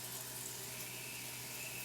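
Hot water running from a camp shower tap at an off-road campsite, a faint, steady hiss of flowing water heard alone throughout.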